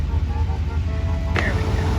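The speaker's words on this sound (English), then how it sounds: "And now it's the garbage truck." A garbage truck working a parking lot in Leavenworth gives off a steady, loud, close diesel rumble, broken about two-thirds through by a single short hiss or clank.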